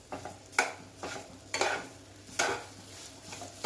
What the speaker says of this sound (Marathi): व्यवस्थित हलवून घ्यायची आहे साखर